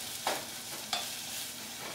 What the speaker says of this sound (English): To hear that start to sizzle just a little bit as I throw them in, that's good.